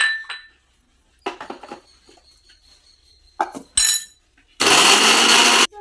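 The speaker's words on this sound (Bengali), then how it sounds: "তো বন্ধুরা দেখুন, আদাটাও মিক্সি করে নিয়েছি।" Electric mixer grinder blitzing chopped ginger in a kitchen, a loud, steady whirring burst near the end after scattered clinks and handling of the jar, with brief faint talk earlier.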